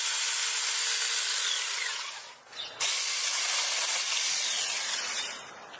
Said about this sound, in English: just insert the battery and you can start using the chainsaw